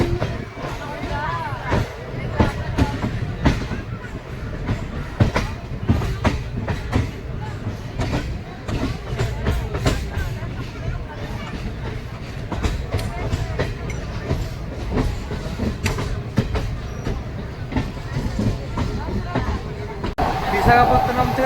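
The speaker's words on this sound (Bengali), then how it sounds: "বিশাখাপত্তনম থেকে ট্রেন ছেড়ে দিয়েছে" The Visakhapatnam–Bhubaneswar Intercity Express rolls along with a continuous low rumble and rhythmic wheel clatter, heard from inside a crowded carriage with passengers talking throughout.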